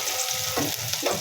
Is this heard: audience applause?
no